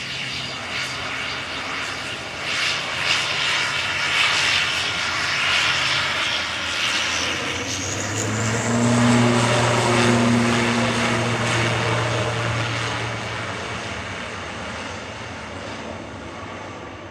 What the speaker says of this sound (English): Lining up for departure to Belfast now is an ATR 72-600 of Aer Lingus Regional